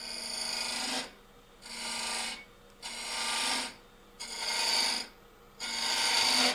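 Carbide cutter hollowing a maple burl hollow form on a wood lathe, a loud rasping scrape in four repeated passes of about a second each, separated by brief quieter gaps.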